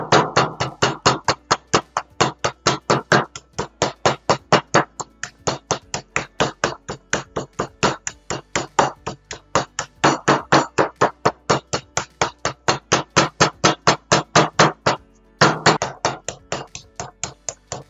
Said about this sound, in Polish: I będziemy go rozbijać młotkiem.